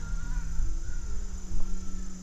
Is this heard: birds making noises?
yes